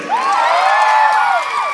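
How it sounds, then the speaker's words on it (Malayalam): A crowd of children cheers and shouts together in a loud, sustained burst of high voices rising and falling, with any clapping buried under the yelling. "മിന്നൽ മുറിയുടെ ഫാൻസ് ആയിട്ടുള്ള കുട്ടികൾ മാത്രം ഒന്ന് കൈയടിച്ചേ"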